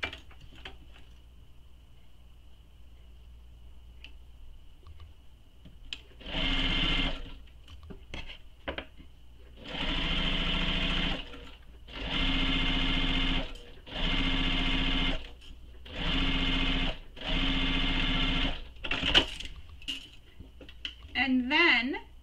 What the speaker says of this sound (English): So now we need to sew these with the seam allowance given in the pattern.